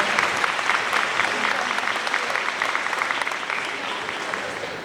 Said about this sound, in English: Round of applause to Jacqueline